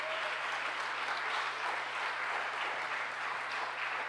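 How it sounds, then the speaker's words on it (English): An audience at a Martin Luther King awards ceremony applauds scholarship recipients, a steady, even wash of many hands clapping together, sustained for the whole stretch without a voice over it. "Give them a round of applause as they make their way"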